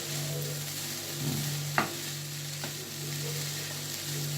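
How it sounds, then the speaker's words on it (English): Seasoning gets stirred into hashbrowns made from sliced potatoes frying in oil in a skillet: a soft, steady sizzle under a low hum, broken by a couple of short scraping clicks from the spoon. "Stir my seasoning in. Stir it up good."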